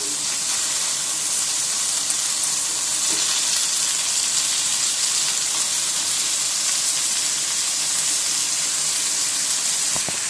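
Malai boti pieces cooking on medium heat in a grill pan give off a loud, continuous sizzle and hiss, steady throughout with no talking.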